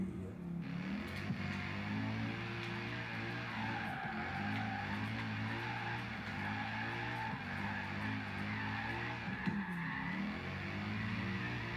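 A Mercedes SLS in Forza Horizon 3 with its engine droning steadily under sustained tire squeal and skidding, continuous and moderately loud without a break, with no talking.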